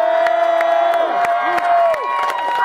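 A concert crowd cheers and whoops steadily, loud and close, with sharp claps and shouts scattered through and a sustained tone running beneath.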